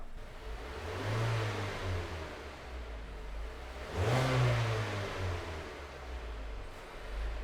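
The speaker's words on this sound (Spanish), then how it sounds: "Ahora, Aarón, acelera un poco, porfa." A mid-size car engine idles steadily, then revs up twice as the accelerator is pressed, each rise swelling and easing back. The engine is close and alone, with no talking over it.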